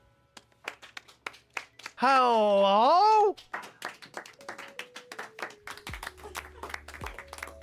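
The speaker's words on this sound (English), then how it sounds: "Let's all start clapping." Several people clap in quick, uneven bursts while voices talk and shout over them; one voice rings out loudly for a moment midway.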